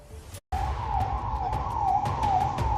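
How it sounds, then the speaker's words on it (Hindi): A wailing ambulance siren sweeps up and down in pitch, loud and continuous, after a brief cutout at the start, with faint rumble underneath, in Kokernag, Anantnag, Kashmir. "एम्बुलेंस के सायरन की आवाजों से गूंजता अनंतनाग का कोकोगुंड वेरीनाग इलाका।"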